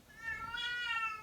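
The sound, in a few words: cat meowing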